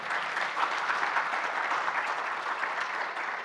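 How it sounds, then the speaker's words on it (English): A conference audience at an AI for energy innovation day breaks into steady, dense applause, many hands clapping evenly at close range for a few seconds with no voices. "can I have a round of applause for all these guys?"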